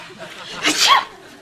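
A single loud, close sneeze with a sharp burst of breath, standing alone without talk.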